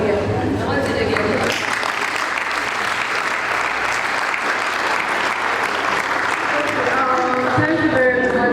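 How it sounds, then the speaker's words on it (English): Loud, sustained applause from a conference audience at a developer festival fills the hall, swelling after a brief opening and holding steady throughout, with some voices audible at the start and end. "Okay, please, I want that clap again."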